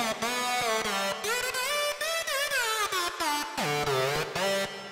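A synth preset that mimics a police siren, with bright, buzzy harmonic tones sliding up and down in repeated wailing sweeps, played loud and alone.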